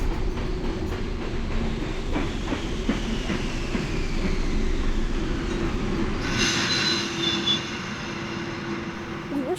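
A train pulls into Drumchapel station near Glasgow, its steady rumbling wagons and clattering wheels carrying on throughout, with a brief squeal of wheels and brakes partway through as it slows.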